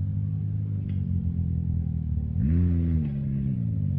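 An off-road rig on tires built for rock crawling, with an aftermarket Assassin exhaust, rumbles steadily at idle on a rock shelf, then revs up once with a rising engine note before settling back.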